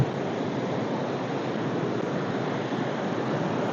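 Kippada waterfall roars as a steady, dense rush of falling water, loud and unbroken throughout with no voices over it.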